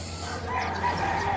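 A rooster crows in one drawn-out call at moderate distance over a low steady background hum, with no one talking.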